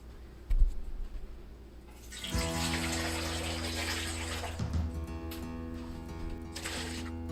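Tap water runs steadily into a pressure canner holding jars for canning chicken, a sudden gush starting after a quiet moment and then a continuous close, full stream with a few knocks and clinks.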